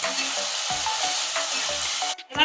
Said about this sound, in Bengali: মশলাটা একদম লাল করে ভেজে নিয়েছি